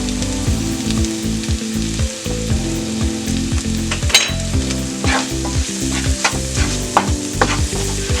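Chicken frying with turmeric in a pan for pepper chicken is stirred over a loud, continuous sizzle, with repeated close scraping strokes and a rhythmic low rumble underneath.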